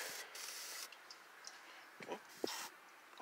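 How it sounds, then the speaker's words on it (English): A second coat of Black Magic tire shine is sprayed onto a tire in a few short hissing bursts, close and quiet, with faint ticks and rubbing in between. "Let's go and spray the second coat."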